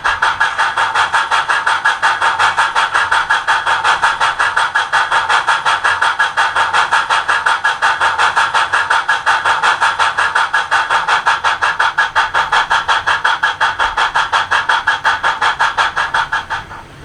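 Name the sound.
Rapido S160 OO gauge DCC sound locomotive running in heavy mode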